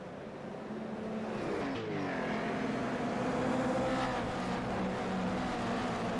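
Toyota GR86 Cup race cars in the iRacing video game pulling away from a rolling start at Virginia International Raceway, a loud continuous engine roar with rising revs as the pack accelerates past.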